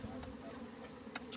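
A fly buzzing nearby, a steady close drone with a few brief clicks over a quiet background.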